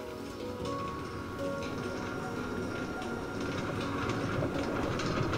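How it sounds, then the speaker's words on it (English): A Brooklyn-bound A express subway train on the New York line toward Far Rockaway rolls along with a steady low rumble, faint rhythmic clicking of wheels over rail joints, and a slight build in loudness. "This is a Brooklyn Brown Egg Express train."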